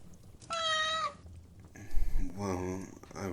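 A kitten gives two drawn-out meows, the first clear and high, the second lower and warbling, close to the mic with breathy voice sounds in between.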